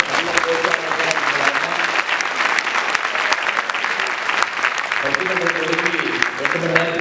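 Steady applause from a festival debate audience fills the whole stretch, dense and continuous, with bursts of clapping and crowd noise that swell again near the end.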